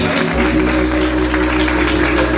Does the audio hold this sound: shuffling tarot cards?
no